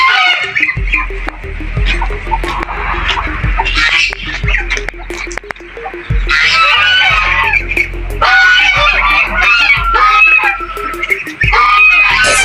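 Geese honk loudly and repeatedly up close, their calls layered over a steady low hum and scattered thumps, with brief quieter gaps between bursts.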